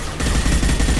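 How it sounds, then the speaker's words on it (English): Heavy gunfire in the game Mass Effect 2, a loud, continuous volley of overlapping shots pounding without a break for the full second. "Taking heavy fire."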